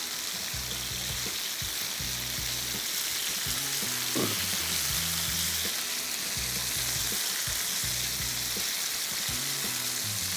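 Pieces of fish pan-frying, their steady close sizzle running throughout while a utensil turns them one by one, adding faint clinks and brief rhythmic scraping over the hiss.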